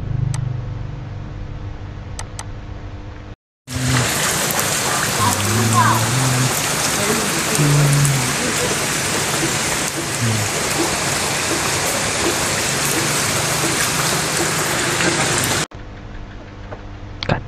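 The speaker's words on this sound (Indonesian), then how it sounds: "pokoknya ini hujan tuh" Heavy rain during a flood pours down in a dense, loud, continuous hiss with water rushing, sustained for about twelve seconds between quieter stretches where a voice talks.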